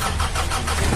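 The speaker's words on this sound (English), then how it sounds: "Start the car." A car engine starts close by and settles into a loud, rough, steady idle rumble over about a second, with no voices.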